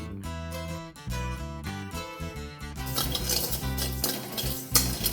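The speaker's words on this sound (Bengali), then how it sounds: "এবার খুব সুন্দরভাবে নেড়ে নেড়ে চা পাতাটা আর চিনিটাকে ভেজে নিতে হবে" Tea leaves and sugar dry-fried and stirred in a metal pan, a spoon scraping and clinking steadily against the pan up close, with a louder sizzling texture building in the second half and no talk.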